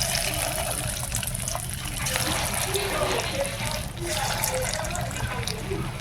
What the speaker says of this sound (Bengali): এইবার ভেজে নেব। এই যে কড়া বসিয়ে দিয়েছি, কড়া তেল গরম হচ্ছে। তেল গরম হয়ে গেছে, এইবার ছাড়বো।